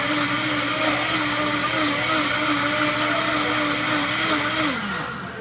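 A Vitamix blender runs steadily at high speed during a quick cleanup, a loud continuous whirring motor roar that holds for several seconds before winding down at the end; no one speaks.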